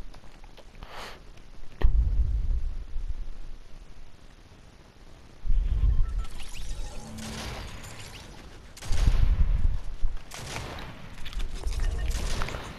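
Fortnite gunfire, several bursts of heavy booming shots in separate clusters, loud and close with quieter stretches between.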